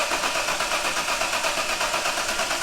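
A Nissan Skyline R31 engine, just brought back to life after a fuel pump prime, runs with a steady pulsing mid-pitched drone, loud and close.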